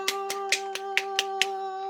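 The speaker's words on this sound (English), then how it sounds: "Let's give them a round of applause." Seven sparse, evenly spaced hand claps from a single person or small group, each sharp and fairly faint, repeating about every quarter second over a steady background hum during an online farm show.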